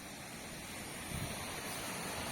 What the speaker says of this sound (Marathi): पाहू शकते ते धबधबा आहे मस्त